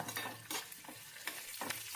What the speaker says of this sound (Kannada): ಒಂದು ಟೇಬಲ್ ಸ್ಪೂನಷ್ಟು ಕಡಲೆಬೇಳೆ ಅರ್ಧ ಟೇಬಲ್ ಸ್ಪೂನಷ್ಟು ಉದ್ದಿನಬೇಳೆ ಹಾಗೆ ಸ್ವಲ್ಪ ಹಿಂಗನ್ನ ಸೇರಿಸ್ಕೊಂಡು ಇಷ್ಟು ಒಗ್ಗರಣೆ ಪದಾರ್ಥಗಳನ್ನ ಎಳೆ ಕಾವನಲ್ಲಿಟ್ಕೊಂಡು ಫ್ರೈ ಮಾಡ್ಕೋಬೇಕಾಗತ್ತೆ